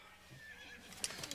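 A horse whinnies, a brief high nicker rising near the end of a short stretch amid faint background noise, a stalled vehicle nearby and no one speaking.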